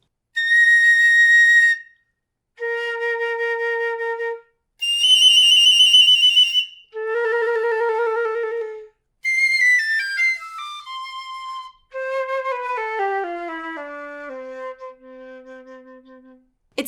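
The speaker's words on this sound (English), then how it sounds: "the difference between the piccolo and the flute is that the piccolo makes higher sounds" A piccolo plays a series of piercing high notes in separate phrases, some held steady and others stepping down in quick runs, clear and solo with brief silences between.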